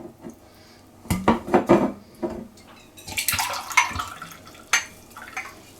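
Water splashes and trickles into a bowl holding oil, with clinks of dishware, close and fairly loud, with no talking.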